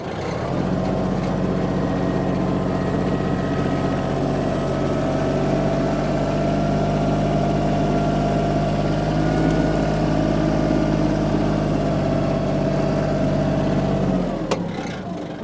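A Kubota KL 23 tractor engine drives in its lowest reverse gear, a loud, steady, close-up diesel drone that holds an even pitch for about fourteen seconds before cutting off.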